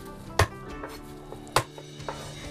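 Three washed garlic cloves are smashed on a cutting board, with two sharp, heavy thuds about a second apart and a few lighter knocks between them, close and alone.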